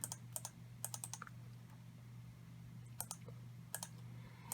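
A computer mouse is right-clicked in short clusters of sharp, close clicks over a steady low electrical hum, with no voice.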